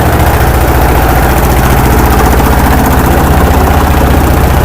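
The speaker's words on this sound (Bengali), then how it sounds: "এই যে উনি ট্রলার ঘুরাইতেছে" A trawler boat's engine runs loud and close as the boat turns on the river from Swarighat toward Sadarghat, a heavy continuous rhythmic diesel thrum with a low knocking pulse.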